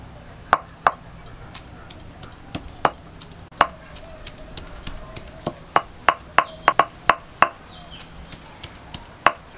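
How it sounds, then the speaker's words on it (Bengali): Sharp irregular knocks of a stone grinding palm fruit with other ingredients on a grinding stone, close and fairly loud, scattered in uneven bursts with short pauses. "এগুলো আমি এবার বেটে নিচ্ছি।"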